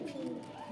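A Lakha pigeon gives a soft, low coo, brief and close, sounding alone without other noise.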